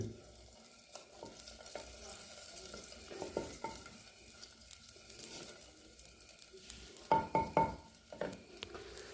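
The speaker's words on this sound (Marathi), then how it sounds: "दोन बिडकी मिरची घेतली ते टाकून घेऊया" Dried chillies frying in oil in a pot and being stirred, with a soft, low sizzle and intermittent scraping taps that grow louder and quicker toward the end.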